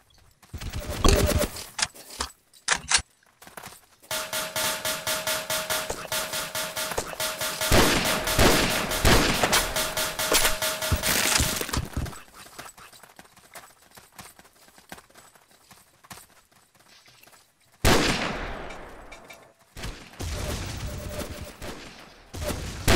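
Gunfire in Ace of Spades comes in repeated rapid automatic bursts, loud and close, broken by short pauses, with a sharp volley near the end and occasional voices.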